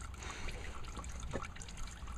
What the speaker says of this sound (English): Here comes the oil. Draining oil? No, it's just gooshing everywhere.